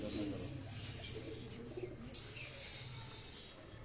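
Breeder pigeons released from their loft coo in low, rolling, overlapping calls nearby, a continuous soft burbling with a faint voice in the background.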